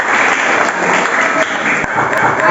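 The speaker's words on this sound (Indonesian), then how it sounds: "tepuk tangan lagi" Loud, close applause from a class of middle school students, a dense burst of clapping filling the room for a few seconds before it thins out.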